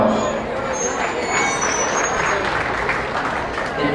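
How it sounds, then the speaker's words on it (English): Steady applause from a crowd at a county beef cattle show fills the space at a constant level, with a low rumble of traffic or engines underneath. "Let's give these exhibitors a round of applause."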